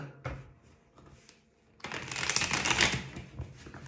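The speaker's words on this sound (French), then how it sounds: "On va tirer quelques cartes avec l'oracle G" Oracle cards tapped, then riffled loudly in a brisk shuffle lasting about two seconds before a few softer card flicks, close up and with no talk over them.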